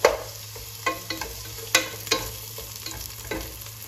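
Onions sizzle and crackle steadily in a hot pan for vegetable soup, with several sharp scraping clicks of a utensil stirring at irregular moments.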